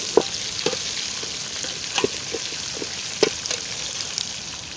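Chili frying in a pan for a curry, a steady low sizzle broken by several sharp stirring scrapes spaced about a second apart, close and moderately loud with no voices.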